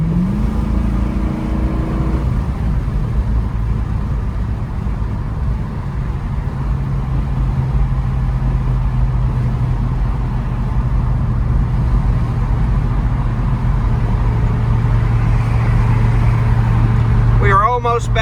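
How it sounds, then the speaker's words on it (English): A 1965 Ford Mustang Fastback with a 302 V8 drives along with a continuous loud engine drone, its pitch shifting as it moves through the gears, while someone talks over it. "Car's got good power, shifts through all the gears the right way."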